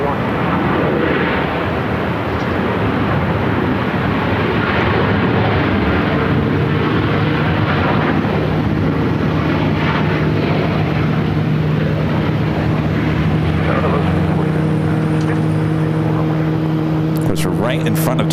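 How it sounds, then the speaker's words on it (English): Airliners arriving on runway 8 at Phoenix Sky Harbor Airport produce a loud, continuous jet engine roar with a steady drone throughout, while a voice talks over the noise. "You're looking at runway 8 in use for arrivals."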